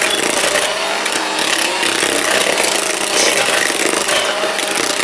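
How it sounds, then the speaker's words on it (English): A struggling cordless hand mixer, an Aldi Ambiano, whines and bogs down under load, its motor straining in a steady, loud, harsh buzz close by without pause. "The motor wants to spin really fast, but it doesn't have low end torque."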